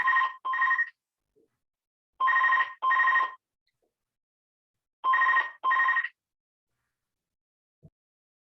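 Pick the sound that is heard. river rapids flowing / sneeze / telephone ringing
telephone ringing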